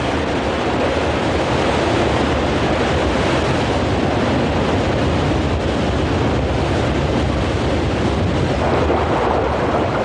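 A wild river torrent rushes near a waterfall, a loud, dense, continuous roar of churning water that stays constant and close throughout.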